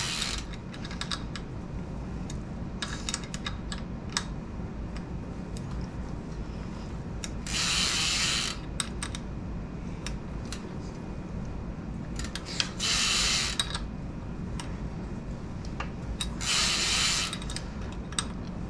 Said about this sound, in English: Tighten these down. I'm going to get them fairly snug.